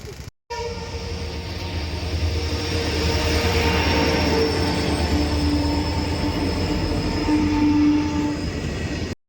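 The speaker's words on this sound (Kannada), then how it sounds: "ಟ್ರೈನ್ ಪಾಸ್ ಆಗಲಿ ಆಮೇಲೆ ಹೋಗೋಣ" A train rumbles steadily past at close range, wheels roaring and squealing, with a long sustained horn tone running through most of the passage.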